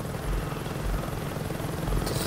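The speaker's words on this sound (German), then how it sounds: "Warte, da fliegt gerade ein Helikopter rum." A helicopter in the video game Saints Row 2 flies overhead with a steady, loud rotor chop and engine drone throughout, no speech over it.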